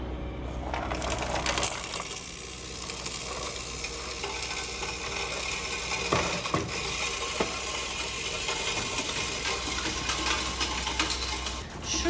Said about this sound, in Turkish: şimdi şuradaki kısma paraları yollayacağım